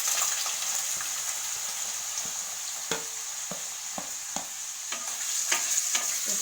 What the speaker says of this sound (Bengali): প্রথমে আলুগুলো একটু ভাজবো।